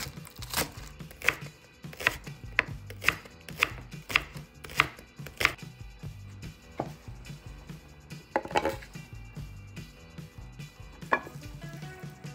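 Knife chopping fresh green onion on a cutting board for a tongue salad: a run of sharp, evenly spaced taps close up, then a pause and a few scattered cuts, with no talking.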